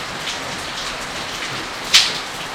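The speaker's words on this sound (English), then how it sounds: "It's day 5 of this rain. It just won't stop." Heavy monsoon rain falling steadily in the Philippines, a dense continuous hiss of drops on surfaces with one brief louder splash or drip near the end, no voices.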